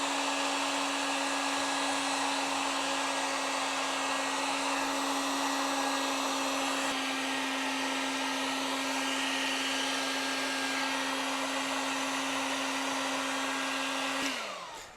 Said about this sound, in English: So I got our heat gun here and I'm just gonna start molding it.